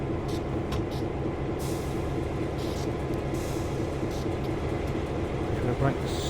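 Train air brakes in Train Sim World 3 let out brief airy hisses over a constant low engine rumble from the railway simulation.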